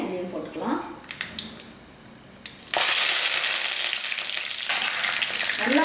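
Cumin, black pepper and curry leaves hit hot oil and burst into a loud, steady crackling splutter that fills the second half, after a quieter start with faint voices and a few clinks nearby.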